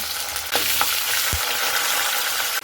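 Chicken pieces frying in a pan with cinnamon, cloves and cardamom, giving a loud continuous hiss of hot oil near the pan and a few brief utensil knocks.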